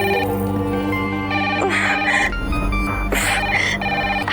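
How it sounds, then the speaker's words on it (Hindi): A telephone rings in a Hindi TV drama scene. The steady, repeating electronic ringing tone plays over loud background music, and no one speaks during it. "खन्ना साहब का फोन"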